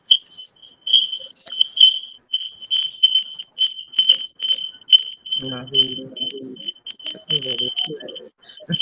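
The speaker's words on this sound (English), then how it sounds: "who background is that with the little beeper?" Small electronic beeper chirping repeatedly in the background at a steady high pitch, faint but persistent throughout, with people talking over it in the later part.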